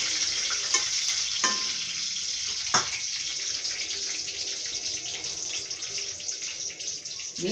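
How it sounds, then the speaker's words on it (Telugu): Chopped capsicum frying in a pan for a capsicum masala curry, a steady loud hiss of sizzling oil with a few sharp clicks of stirring, close and continuous. "ఇవి కొంచెము పచ్చి వాసన పోయేటట్టు వేగాలి."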